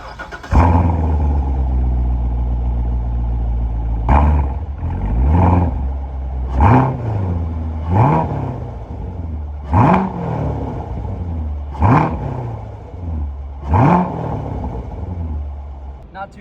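A 6.2-liter 2019 Chevrolet Corvette Grand Sport engine cranks and fires, settles into a deep idle, then is blipped through seven sharp revs at steady intervals, loud and close throughout.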